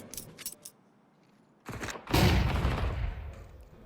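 A few distant clicks, then a loud close burst of gunfire in Counter-Strike with rattling echoes trailing off; no one speaks.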